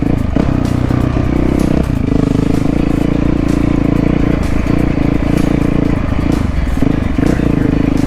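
Supermoto motorcycle being ridden: a loud, continuous engine drone close by, with rattling and clattering over the top and no clear talk.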